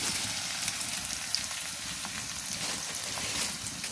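Garlic and ginger paste with spices sizzles steadily in a hot pan as it is sautéed, a close, continuous frying hiss with faint stirring scrapes and no talk.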